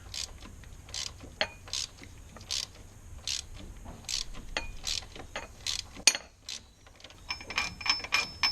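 A ratchet clicks in quick repeated bursts as bolts are tightened on the alternator brackets of a VW T4 Transporter 2.5 TDI, close and crisp against a quiet workshop background, with a few small metallic knocks.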